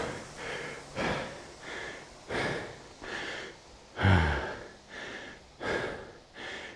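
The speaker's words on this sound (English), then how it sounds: "heavy breathing" Heavy, rhythmic breathing after a sprinting row workout on a rowing machine, with about seven loud, close, panting breaths spaced roughly a second apart and one deeper gasp midway, with no talking.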